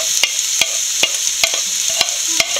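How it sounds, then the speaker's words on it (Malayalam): Medium-sized onions, sliced thin lengthwise, sizzle steadily in hot oil in a pan for a Kerala jackfruit-seed thoran, with a bright continuous hiss punctuated by regular sharp scrapes and clicks of stirring, close and alone. "എണ്ണ നല്ലപോലെ ചൂടായിട്ടുണ്ട്. സവോള ഇട്ട് കൊടുക്കാം."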